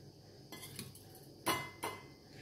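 A spoon clinks and scrapes against a pan while cashews and raisins are mixed into rava for rava laddu, with a few soft taps followed by two sharper, louder knocks close by and no talking.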